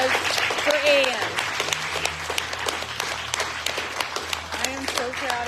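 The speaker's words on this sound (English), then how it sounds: "ease give a great big chain breaker round of applause for Ian." An audience applauds at a sobriety celebration, with dense clapping running throughout alongside voices and cheers from the crowd.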